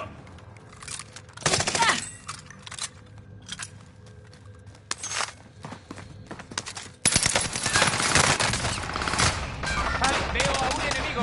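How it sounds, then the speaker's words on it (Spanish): Gunfire from the video game Call of Duty Warzone played on PS4 Pro, with scattered shots early and then a loud, sustained burst of rapid firing; voices can be heard in the background. "¡Veo a un enemigo! ¡Me disparan!"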